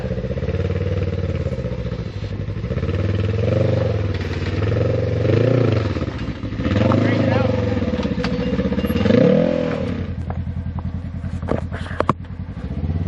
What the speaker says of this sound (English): he's got to give it some throttle to get over this obstacle